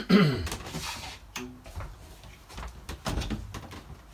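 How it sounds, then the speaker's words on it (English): Closet doors on a 1969 Airstream Overlander 27-foot travel trailer are opened, giving a few close, light knocks and sliding clatters spread over several seconds with no talking. "So let's open the closet doors"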